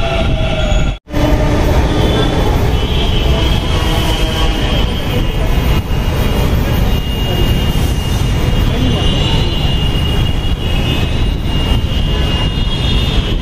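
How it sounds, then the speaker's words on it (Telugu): Loud, continuous rumble and rushing noise from inside a moving metro train crossing a cable bridge, steady throughout with a brief dropout near the start. "మనైతే మెట్రోలో వెళ్తున్నాం అనమాట"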